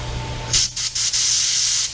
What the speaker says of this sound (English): sometimes you do need to take the tip off and blow it out, which is sounding kind of funny right now.